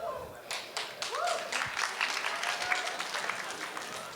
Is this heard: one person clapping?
yes